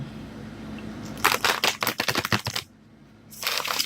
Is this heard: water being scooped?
no